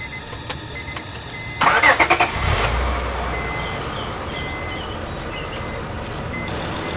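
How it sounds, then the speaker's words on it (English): A car engine cranks and catches with a quick burst of pulses, then settles into a steady idle that runs on beneath outdoor background noise, with faint beeping in the distance. "Start the car again."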